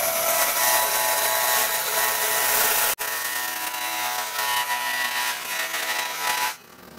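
A power tool trims an aluminum trailer fender panel with a loud, continuous rough cutting and rubbing noise, a brief break midway, then winding down at the end.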